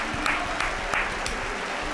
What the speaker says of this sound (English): Round of applause for those substitutes, for those substitutions.